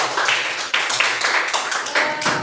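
A class group claps during an Islamic religious education lesson. The sharp, uneven hand claps come close and loud for a couple of seconds, with no talking.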